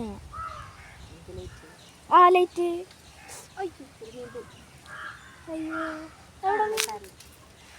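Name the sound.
crow cawing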